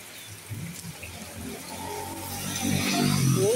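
Steady rushing water builds from a moderate wash to a louder, denser pour during Typhoon Tino's heavy rain, with the noise swelling in strength toward the end and no talking.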